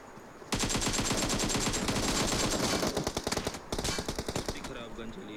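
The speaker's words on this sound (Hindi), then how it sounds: "दिख रहा गन चली यार" Video game gunfire: a sustained burst of rapid automatic shots, then shorter bursts after a brief pause, loud and close, with a voice talking faintly underneath.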